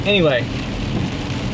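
Steady rain drums on a car from inside the cabin, a broad continuous hiss under brief talk at the start and carrying on alone after it.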